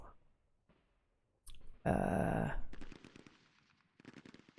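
Gunfire from the wargame The Operational Art of War III (TOAW3) rattles in a single short, sharp burst. It sits among quieter clicks and interface noises at a low overall level.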